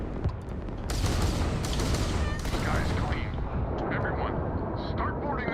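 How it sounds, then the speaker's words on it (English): Railguns fire from a ship in the video game Starfield: a dense, loud roar of heavy shots and booms that runs through the clip and fades slightly near the end. "Got 6 railguns on that hog."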